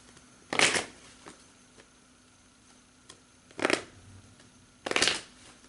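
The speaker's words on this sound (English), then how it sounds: "Let me look at the Hanged Man, and then I'll pull some energy cards." Tarot cards being shuffled by hand in three quiet, brisk riffling bursts separated by pauses of a few seconds, with a faint room hum and no voices.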